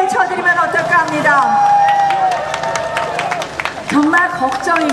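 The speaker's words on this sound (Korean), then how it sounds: "박수 한번 크게 쳐드리면 어떨까 합니다" A crowd applauds at an outdoor campaign rally at the Sangdo-dong Hillstate intersection, with a steady patter of claps running beneath someone speaking loudly into a microphone.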